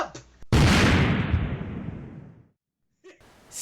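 Explosion of a Chinese-made battery: a sudden loud blast that decays over about two seconds into silence, followed by a brief faint sound near the end.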